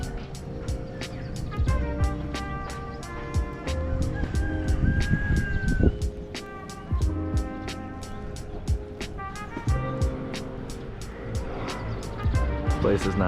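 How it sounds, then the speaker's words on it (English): Roosters crow in a tropical setting in Bali, mixed with other bird calls and a steady insect-like ticking rhythm, with a person talking over the scene at moderate distance. "the roosters are giving it a jungly vibe"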